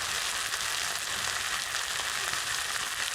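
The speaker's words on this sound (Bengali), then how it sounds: "মশলাটা কষানো হয়ে গেল, এবার নুন দিয়ে দেবো" Spice paste for a cauliflower curry fries in a pan, giving a soft, steady crackling sizzle throughout with no voices.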